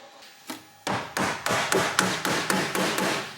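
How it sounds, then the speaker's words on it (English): A dead blow hammer striking a Land Rover Defender seatbox panel during a repair: about ten firm, close thuds in a steady rhythm after a couple of lighter taps, ringing briefly off the metal, with no speech. "Dead blow hammer, really useful."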